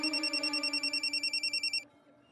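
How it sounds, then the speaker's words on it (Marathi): A telephone rings in a domestic scene from a Marathi TV serial, a bright electronic trill pulsing in rapid repeated bursts for nearly two seconds before stopping abruptly, leaving quiet room tone. "अगं फोन वाजतोय, दे ना."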